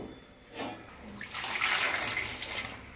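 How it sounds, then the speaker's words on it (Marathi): Bottle gourds being washed under running water, a steady splashing wash that swells partway through and holds to the end, close by with no voice. "हे बघा आधी असे मस्त धुवून घ्यायचे."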